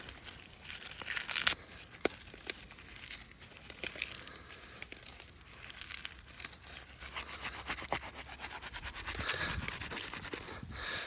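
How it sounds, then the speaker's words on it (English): Tinder material is ground and rubbed into fine dust by hand, giving soft irregular scratching, crinkling and tearing close up, with sporadic louder scrapes and no talk. "And I'm just creating dust, essentially. I'm just trying to grind it down."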